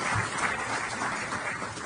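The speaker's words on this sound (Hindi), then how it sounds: "बस जोरदार तालियों से अभिनंदन करें आदरणीय जी का" An audience at a formal stage event with India's Chief Justice gives a round of applause, a continuous wash of clapping, steady and fairly loud for its brief length.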